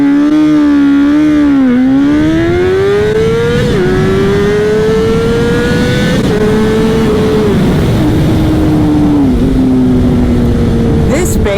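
A Honda CBR600RR launched hard and run up through the gears, its engine screaming higher with each pull, pitch dropping briefly at each of several shifts, loud and close over wind rush.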